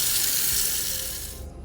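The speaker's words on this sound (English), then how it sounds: "Next, you want to rinse all the colors" Tap water runs steadily over a tie-dyed T-shirt being rinsed in a sink, a continuous close hiss that thins out and fades near the end.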